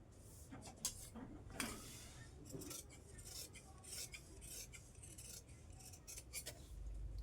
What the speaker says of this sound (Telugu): ఇప్పుడు ఇక్కడికి కట్ చేసేసుకుందాం.